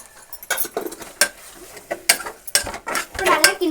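A spoon stirring chicken biryani masala with turmeric powder in a pot, sounding as close, irregular metal scrapes and clinks of the utensil against the pot in bursts, with faint frying underneath.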